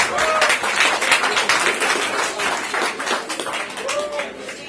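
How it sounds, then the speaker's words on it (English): Guests at a neighborhood 50th anniversary party applaud and clap heartily, a close, lively mix of many hands with scattered voices and a cheer or two rising through it. "let's give them a round of applause."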